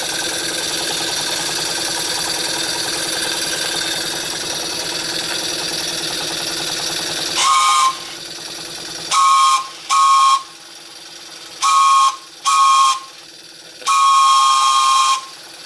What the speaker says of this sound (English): I just got this steam whistle from eBay. Wanted to try it out.